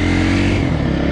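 A KTM 350 Freeride enduro motorcycle engine runs loud and close, a dense steady roar held through the short moment with no pause.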